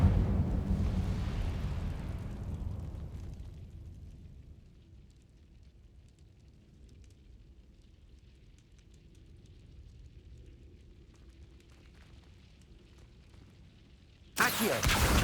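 A fire spell cast in Hogwarts Legacy bursts out loud with a rumbling, roaring whoosh that dies down over a few seconds into a low, steady ambience, before another sharp burst cuts in near the end.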